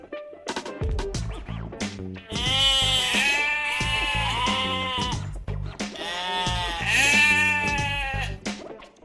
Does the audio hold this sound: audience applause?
no